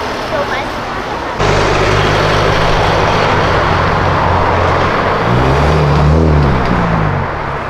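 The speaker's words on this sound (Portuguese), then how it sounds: "É um Megane rebaixado, velho" A lowered Renault Megane passes on Avenida Europa; loud road and engine noise swells suddenly and stays strong, with a rising and falling engine tone as the car goes by close.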